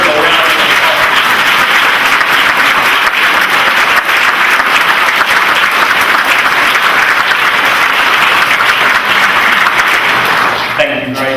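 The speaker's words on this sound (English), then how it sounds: "I want you to give them a round of" A college audience gives the financial aid staff a sustained round of applause: loud, dense clapping from a large crowd that carries on steadily for about eleven seconds before tapering off.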